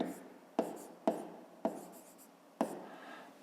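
Pen or pencil writing by hand on paper during a fifth-grade math exercise: five sharp taps of the tip, each followed by a soft scratching stroke, close and quiet, with no talking.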